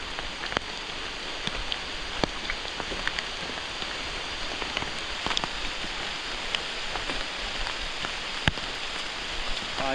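Steady rain patters on a wooded Ozarks hiking trail, a continuous soft hiss with scattered sharper drips and taps close by, and no voices.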